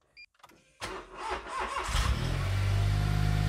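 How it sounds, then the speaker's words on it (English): A Smart Roadster Brabus engine cranks briefly after a couple of faint clicks, then catches and settles into a steady, loud idle close by. "Let's start the car."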